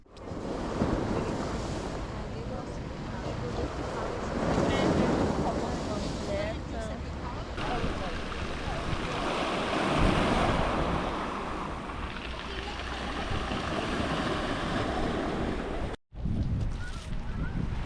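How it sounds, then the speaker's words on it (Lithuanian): Strong wind roars over a mic by the sea in Croatia, with surf washing beneath it and brief muffled voices; steady and loud throughout. "Be galo didelis vėjas, varysim prie jūros"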